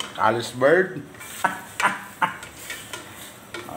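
Metal utensil clinks and scrapes against a pot as food is stirred and mixed, a handful of sharp knocks spread irregularly across the moment, close and fairly clear, with a voice talking at the start.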